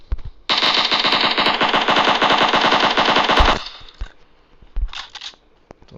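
Gunfire in PUBG Mobile on the Livik map: a rapid, loud automatic burst of closely spaced shots lasting about three seconds, followed by a few scattered single reports.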